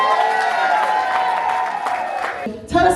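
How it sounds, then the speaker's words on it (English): An audience at a speaking event bursts into a dense wash of applause and cheering, sustained and loud throughout, with a brief dip and a sharp swell near the end. "Let's give her a big round of applause."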